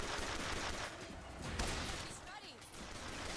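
BioShock Infinite gunfire, a continuous noisy rattle of rapid shots mixed with crashes and mechanical clatter throughout, with a voice speaking over it.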